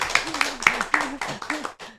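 Brief hand clapping for a podcast guest, a few quick claps up close mixed with people talking and laughing over them in a small room.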